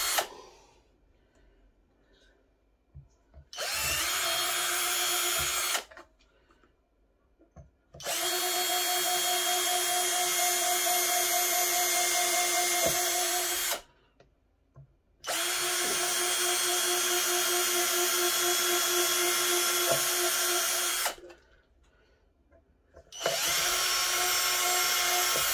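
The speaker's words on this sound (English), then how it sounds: "And just drill a couple of pilot holes" A power drill bores pilot holes in a Fender Stratocaster guitar body, running in four sustained whining bursts of several seconds each, separated by short quiet pauses.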